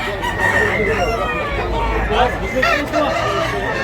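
Rooster crowing at a busy poultry market in Tabunok, Talisay, Cebu: a loud, near crow stretching across the clip, with other birds and a crowd murmuring behind it.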